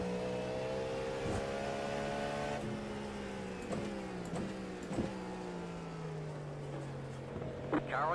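Race car in iRacing at Daytona, a steady loud engine drone from the driver's own car with faint shifts in pitch and brief thumps as another car draws alongside, a voice speaking briefly.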